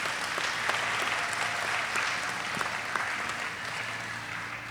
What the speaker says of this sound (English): let's give a round of applause for all the staff and faculty of the Riviera Beach Prep